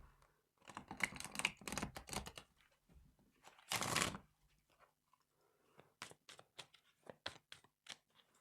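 Tarot cards are shuffled and riffled in short bursts, then tapped and flicked in quick crisp clicks, close and fairly quiet with pauses between.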